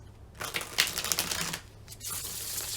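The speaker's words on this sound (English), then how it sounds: "A couple more shuffles." Tarot cards shuffled by hand in a quiet room, a few bursts of riffling and slapping close to the listener, with short pauses between shuffles.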